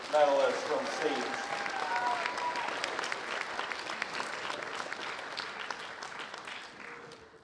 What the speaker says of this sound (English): let's give another round of applause to all of our silver medalists from state